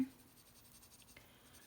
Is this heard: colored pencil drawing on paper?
yes